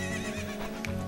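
A horse in Zelda: Ocarina of Time lets out a short, bright digital whinny, one quick neigh heard on its own.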